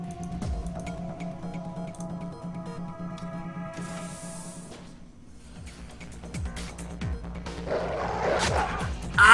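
A dog in the Shadowrun Returns video game barks in short, pitched yelps and whines, clustered at the start and again midway, over a steady low game hum and scattered clicks.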